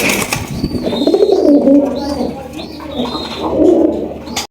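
A Chuithal Golla pigeon, a fancy breed kept for sale, coos close by in repeated soft, throaty rolling phrases separated by short pauses, with light background noise.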